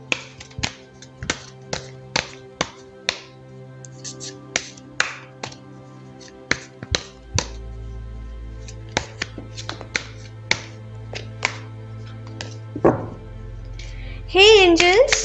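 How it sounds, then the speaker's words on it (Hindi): A deck of tarot cards is shuffled, giving a run of sharp, close taps and slaps at an uneven rhythm over a low steady hum, with a brief voice near the end. "तो चलिए पहले ज़रा कार्ड्स को शफल कर लेते हैं।"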